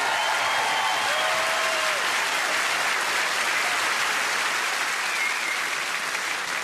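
A large theatre audience at a royal variety performance applauds cellist Sheku Kanneh-Mason, a dense, sustained roar of clapping at steady volume throughout, with faint whoops rising briefly above it.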